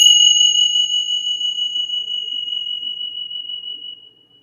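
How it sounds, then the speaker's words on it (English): A single chime rung to clear energies gives a clear, pure metallic tone that rings out and slowly fades over about four seconds, heard alone. "Let's chime one more time to clear the energies."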